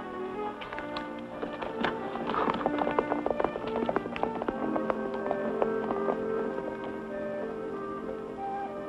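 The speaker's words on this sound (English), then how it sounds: "Loose horse." A loose horse gallops past in an old Western film scene, hooves clip-clopping in a quick, uneven rhythm over a busy background of music and faint voices.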